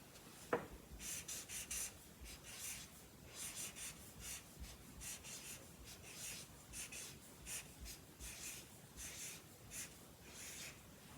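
Pen or pencil scratching across paper while notes are written in a science journal, with steady close strokes in short rhythmic bursts and no talking.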